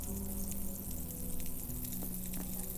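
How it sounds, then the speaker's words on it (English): Meat sizzling as it cooks in the video game Abiotic Factor, a steady faint crackle and patter with a low hum underneath, continuous throughout without talk. "Ah, the sound of sizzling meat."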